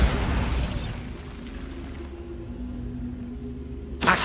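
A Bombarda blast spell in Hogwarts Legacy goes off with a loud, broad burst that fades into a low rumble, followed near the end by a short, bright crackle.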